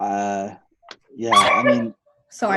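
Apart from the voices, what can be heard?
dog barking in the background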